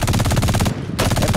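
Rapid bursts of automatic gunfire in a video game, loud and close, in a fast rhythmic string broken by a brief pause.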